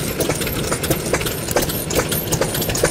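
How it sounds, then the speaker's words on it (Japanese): A Kubota E-type 5 hp kerosene stationary engine runs at an engine-running meet with a loud, steady, close chugging. The quick firing beats come evenly over a dense mechanical clatter. "久保田石油発動機 E 型5馬力ですね。"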